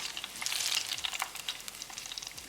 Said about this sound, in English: We're deep frying for 3 minutes.